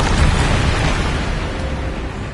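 A Depulso spell cast in a wizarding video game lands as a loud, dense explosive blast, a broad burst of noise that holds and slowly tails off over a couple of seconds.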